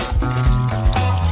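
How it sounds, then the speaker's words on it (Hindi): Liquid being stirred and poured while sugar, water and dye are mixed into a glaze, a continuous close wet sloshing and trickling with no voices. "चीनी, पानी और डाई को एक साथ मिक्स कर लेते हैं।"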